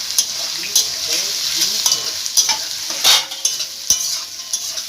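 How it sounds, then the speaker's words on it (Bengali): Chopped onions frying in a pan for a Bengali chicken curry, with a steady close sizzle broken by repeated sharp scrapes and clinks of a spatula stirring against the pan. "এটা ভাজা হোক"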